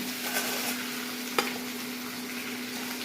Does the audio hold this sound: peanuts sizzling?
yes